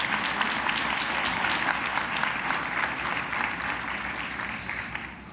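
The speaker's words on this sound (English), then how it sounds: "a very, very, very big applause." An audience at a convention awards luncheon applauds in a steady wash of clapping that slowly fades toward the end.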